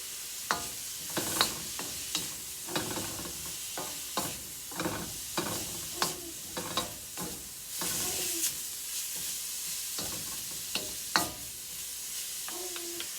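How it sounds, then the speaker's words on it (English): Vegetables for egg rolls sizzle and crackle in a hot pan while a spoon repeatedly scrapes and stirs, producing a steady rhythm of clacks over continuous frying hiss. "you're going to stir fry this for a couple of minutes"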